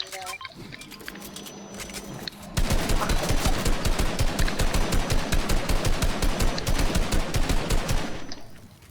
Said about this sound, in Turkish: öylesine sıkıyorum. Mermiyi boşaltmak için